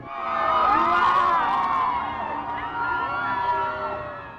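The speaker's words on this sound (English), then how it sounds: "The crowd also cheered when Pope Francis thanked them for giving him such a warm welcome" A large crowd cheers and shouts for Pope Francis during his visit to Mexico, a sustained, loud roar of many voices that swells and stays steady throughout.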